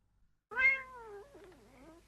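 A single cat meows once, close and clear, a long wavering cry that starts loud and trails off in pitch, with silence before it.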